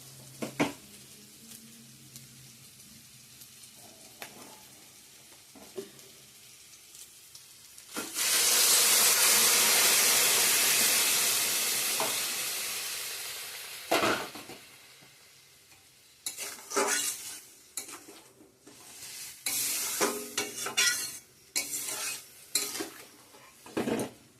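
Water poured into a hot pan of braised, spiced food bursts into a loud hissing sizzle that slowly fades, followed by intermittent clinks and scrapes of a spoon stirring against the pan.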